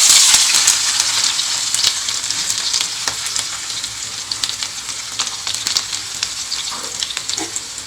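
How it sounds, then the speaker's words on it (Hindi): Chopped onion hits hot oil with cumin and fries with a steady, close hiss and crackle, sharp pops scattered throughout for about eight seconds, with no voices. "प्याज को फ्राई करूंगी, ज़्यादा लाल भी नहीं करना है"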